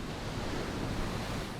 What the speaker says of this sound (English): Waves in this area have been known to top out at 50 feet.